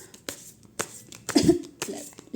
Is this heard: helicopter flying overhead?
no